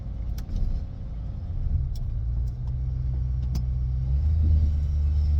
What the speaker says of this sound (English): So I'm gonna try to carefully move the truck over there with no brakes.